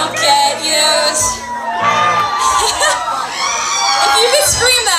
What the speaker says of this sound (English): I need you guys to scream, yes, what you said, good girls don't get used